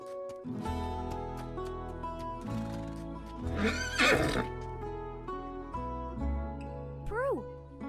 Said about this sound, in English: Giddy up, Spirit